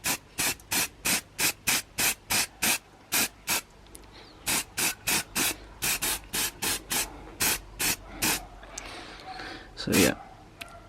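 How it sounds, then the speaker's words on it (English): Short bursts of spray paint hiss in a regular rhythm as a base coat goes onto Subaru Impreza STI radiator brackets, about two dozen close, loud puffs, with someone talking briefly in between. "we're just going to hit a little base coat quick because the primer's all dried up"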